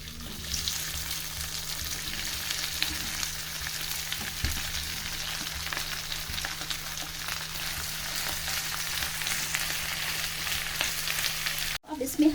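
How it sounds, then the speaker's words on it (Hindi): Boiled potatoes, about 1 kg, go into a hot pan of oil with fried cumin, nigella and fennel seeds for a samosa filling, giving a steady loud sizzle and frying hiss throughout with a brief dropout near the end. "अब हम इसमें डालते हैं अपने जो हमने 1 kg आलू बॉईल किया था"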